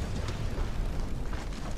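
A dense, rumbling explosion from the PS2 game Gundam True Odyssey rolls on steadily for under two seconds, a loud broadband roar heavy in the low end with no voices over it.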